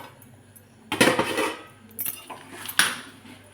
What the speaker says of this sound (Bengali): এবার একটু ঢাকা দেব। এবার ঢাকা দিলেই হয়ে যাবে।